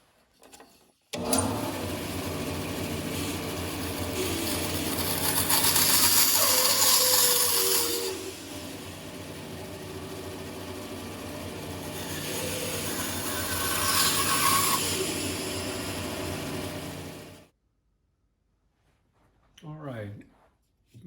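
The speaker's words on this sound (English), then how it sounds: "So I'll do these on the bandsaw." Bandsaw cutting a wooden block while roughing out a drake pintail carving, a steady motor hum with two louder bursts as the blade bites the wood, running continuously then stopping abruptly near the end.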